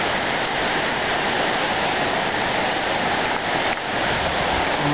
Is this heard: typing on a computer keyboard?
no